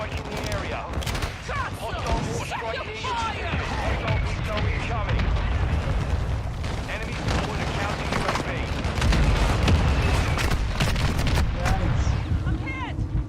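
Mortar strike explosions in Call of Duty: Modern Warfare II, dense booming impacts and gunfire rumbling continuously through the battle, loud and layered, with game voice lines and chatter over the top.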